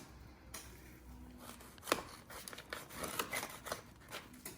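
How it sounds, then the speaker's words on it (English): A knife slices a chopped cheese burger sandwich in half, giving a few soft, close crunches and scraping cuts through bread and filling, fairly quiet with small clicks and no talk. "I'm gonna cut that sandwich in half for him"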